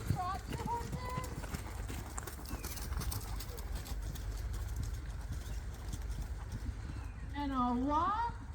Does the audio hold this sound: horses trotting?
yes